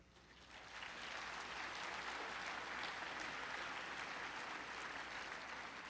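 Sustained applause from a large crowd at a Vice President Biden event in Buckhead builds quickly and holds steady, loud and dense, with no talking over it.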